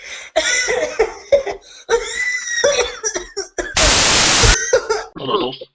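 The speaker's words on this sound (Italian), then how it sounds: "Hai la tosse?" A person's coughing fit cuts in between stretches of conversation, with a short burst of harsh, noisy coughing in the middle and talking before and after.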